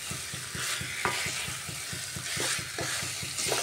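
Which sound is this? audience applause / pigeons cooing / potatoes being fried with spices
potatoes being fried with spices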